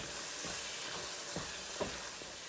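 Garlic sizzling in a pot as the base for a creamy tortellini soup, a soft, even frying hiss with a few faint stirring scrapes and no talking.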